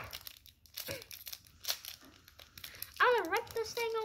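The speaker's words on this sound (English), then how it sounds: "I'm gonna rip this thing open" A Pokémon card pack, a Meowth VMAX booster, rips open up close with crinkling, tearing foil over several seconds, while a person talks over it.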